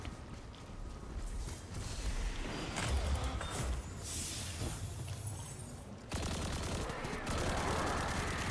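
Rapid bursts of gunfire ring out in Destiny 2, with sharp shots, shattering impacts and mechanical clatter layered over booming low rumbles, then a loud renewed volley near the end.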